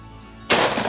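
A single loud shotgun blast at a sporting clays target on an outdoor range, a sharp close report after a brief quiet moment.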